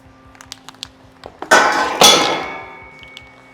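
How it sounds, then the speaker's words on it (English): Spray paint hisses onto rock sliders for a 2005+ Toyota Tacoma as the first coat goes on: two loud, close bursts about half a second apart, each with a fading tail, after a few faint clicks. "Let's hit it with the first coat."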